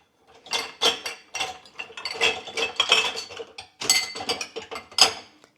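Dishes and mugs left unwashed from the night before clatter and clink as they are handled and stacked, in bursts of bright, close clattering with short pauses between.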